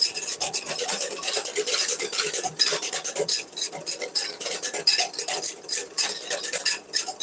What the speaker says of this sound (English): So I will keep whisking.